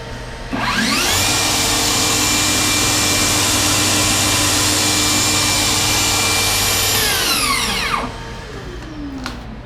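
A loud cordless vacuum extracting dust from a work table tool whirs up, runs at a steady high-pitched whine for several seconds, then spins down and stops.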